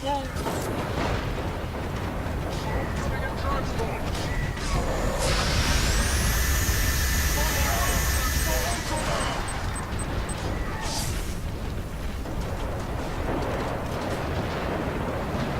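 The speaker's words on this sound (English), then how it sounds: "Now let's drive this tank over to C." A tank in Warhammer 40k Eternal Crusade rumbles along as a dense, continuous engine-and-tread roar, with a rising whine partway through and speech over it.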